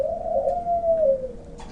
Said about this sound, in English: we feed any outdoor birds that come around, and they really do come around in this weather.